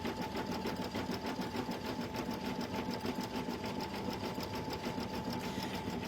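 An embroidery machine stitches a freestanding design in light pink thread, giving a steady, fast rhythmic clatter that runs evenly and fairly close throughout, with no talking.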